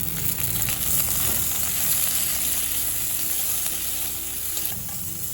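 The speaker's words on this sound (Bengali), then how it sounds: "লবণ দিয়ে শিমগুলো হালকা করে ভেজে নিলাম।" Flat beans fry with salt in oil left in a kadai, a steady close crackling sizzle running the whole time with faint stirring underneath and no voices.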